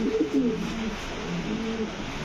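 A male fancy pigeon, of the Danish and beauty types kept on a farm, coos softly in repeated low, rolling phrases against a quiet background.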